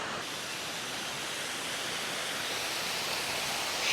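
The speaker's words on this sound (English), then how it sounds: "I love a waterfall." Seven Falls pours in a steady, loud hiss of rushing water, a broad unbroken roar from a nearby waterfall with no voices.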